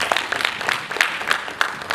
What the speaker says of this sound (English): I think we've not given him enough hand clap